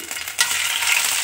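Onion and green chilli frying with ginger paste in a pan, a quieter crackle that jumps into a brighter, fuller sizzle partway through, close by with no voices.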